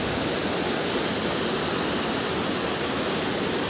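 Water rushes steadily through a cave passage lined with stalagmites and stalactites, a loud, dense, unbroken roar that holds constant throughout with no voices over it.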